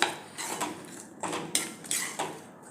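A spoon stirring jaggery into rice kheer in a pot, with repeated close metallic scrapes and clinks against the vessel in an uneven rhythm over the short stretch.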